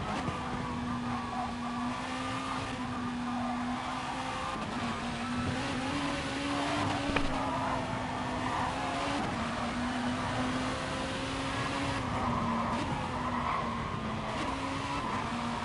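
A Gr.2 race car in Gran Turismo, engine roaring at a steady high pitch through the final corner, with faint tire squeal and slight pitch dips, continuous and fairly close.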